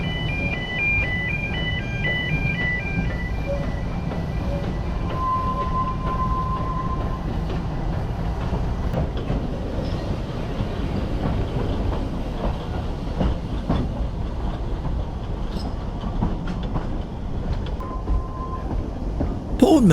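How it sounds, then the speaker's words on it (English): A heritage Welsh Highland Railway train rumbles steadily past nearby through the centre of a town, wheels clattering over the rails, with a horn-like tone sounding briefly near the start. "the train snakes its way through the centre of town to get to the station"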